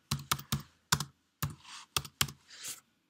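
Crisp, close computer keyboard keystrokes, about eight distinct taps in uneven bursts with brief silent gaps between them, while layer names are entered for a GIF animation.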